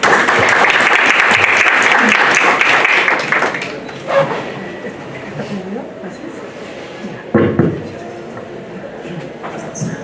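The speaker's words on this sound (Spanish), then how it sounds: "Le brindamos un fuerte aplauso." An audience in a courthouse auditorium in Callao breaks into loud sustained applause that fades after a few seconds, leaving scattered claps and room noise with some talking.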